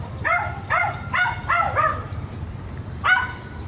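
Several small, pampered-looking dogs barking along a trail on Lantau, Hong Kong: a quick run of four sharp yapping barks, a pause, then one more, close and fairly loud over low background rumble.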